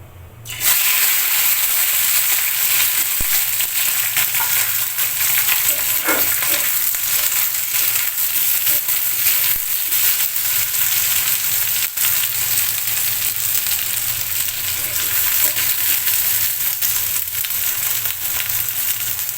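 Okra pieces dropped into hot mustard-seed tempering in a pan sizzle loudly and steadily, a dense continuous frying hiss with faint crackles and occasional stirring scrapes, no voices.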